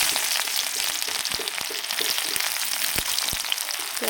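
Chopped onions frying in oil make a dense, even sizzle close by, with a few sharp pops and light stirring clicks breaking through.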